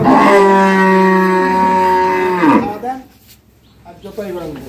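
A dairy cow at an agro farm in Dinajpur gives one long, loud, close moo lasting over two seconds. Quieter farm background and faint voices follow.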